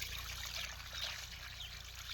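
Water poured in a faint, steady trickle at an outdoor fish-cooking meal among friends, continuous and unbroken with no talking.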